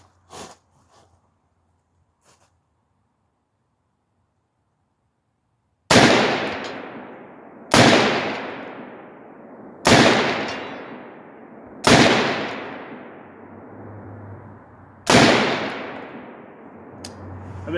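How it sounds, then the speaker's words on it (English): Five loud rifle shots from an AR-47 fitted with a Deer Creek Stealth Blast muzzle brake, fired at a target 150 yards away, spaced about two seconds apart, each a sharp crack with a long decaying echo. "I'm shooting at 150 yards."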